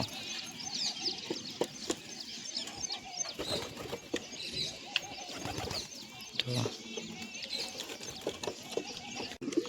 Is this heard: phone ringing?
no